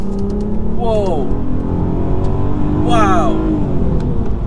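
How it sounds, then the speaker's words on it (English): An ABT-tuned Audi A3 3.2 V6 in sport mode accelerates, its engine droning loudly inside the cabin, with two sharp rising rev sweeps as the gearbox drops a gear on its own, while someone speaks over it. "look at the way the car just drops the gear"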